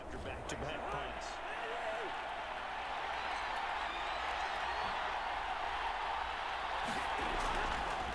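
Stadium crowd noise in the Madden 22 video game, a steady broad roar of spectators that holds at a moderate level throughout, with a few faint thuds and claps.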